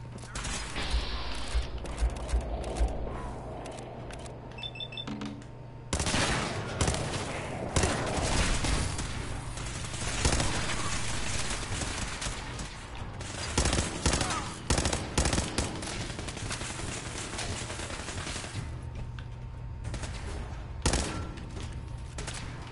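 Rapid bursts of gunfire and weapon shots in a Fallout 4 combat encounter, with repeated loud volleys and thuds over a continuous game ambience, with occasional speech.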